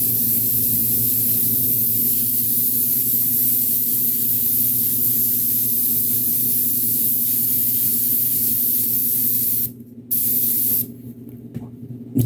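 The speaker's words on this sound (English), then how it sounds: "So I'm going to mist this on." Steady, loud airbrush-style paint spray misting onto a scale model, a continuous broad hiss that runs nearly unbroken, with brief pauses near the end as the trigger is released and pressed again.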